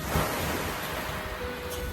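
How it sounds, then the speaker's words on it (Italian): Sea surf washing continuously along a Sicilian shore near Palermo, a broad steady roar with wind noise buffeting the microphone throughout. "Lo scruscio del mare."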